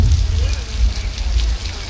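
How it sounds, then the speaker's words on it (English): Artificial rain pours from hundreds of sprinklers onto the Universal Studios Hollywood backlot in the flash flood set, a loud, dense, continuous hiss and patter of water with no gaps. "Let's see that rain in action, baby."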